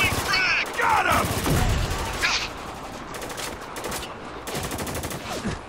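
Dense gunfire rattles through a battle in the video game Spec Ops: The Line, with loud rapid automatic bursts layered under shouted voices.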